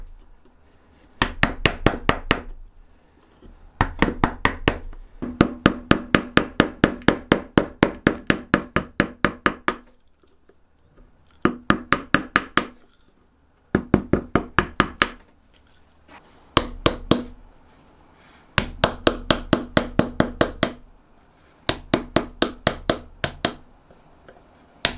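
Chisel and mallet carving a chunk of oak into a lion gargoyle: bursts of sharp, rhythmic wooden knocks, close and loud, in quick runs separated by short pauses.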